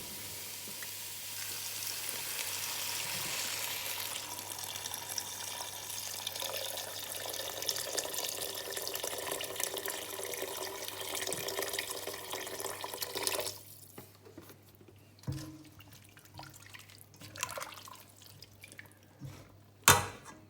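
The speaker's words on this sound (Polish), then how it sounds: "I zalewam to wszystko wodą." Water poured from a tap into a pot of mung bean soup ingredients with smoked paprika, a steady close rushing flow that stops partway, followed by scattered clinks and drips.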